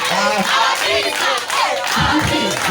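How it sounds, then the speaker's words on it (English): Crowd at a school craft and career event claps and cheers loudly and steadily, with shouts rising over the applause and a few low thumps near the end. "Abeg, clap for them, clap for them."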